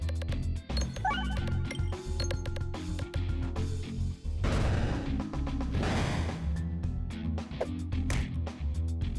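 Bombs going off in the peg-bouncing video game Peglin, a string of punchy crash-and-pop bursts with chiming clinks layered over continuous game music, the loudest blasts clustering near the middle.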